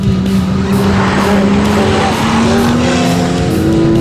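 A Porsche on a test drive accelerates hard, its engine roaring loud and close throughout while the tires squeal continuously under the power.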